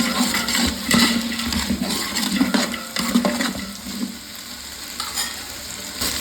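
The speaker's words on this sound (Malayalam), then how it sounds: "2 ഉരുളക്കിഴങ്ങ് കട്ട് ചെയ്ത്, അതുപോലെ തന്നെ 2 ക്യാരറ്റ് ക്യൂബ്സായിട്ട് കട്ട് ചെയ്ത് നമുക്കൊന്ന് മിക്സ് ചെയ്ത് കൊടുക്കാം." Cubed potato and carrot being stirred in a pan for vegetable pulao, a close, busy sizzle with repeated scraping stirs that ease off toward the end, no talking.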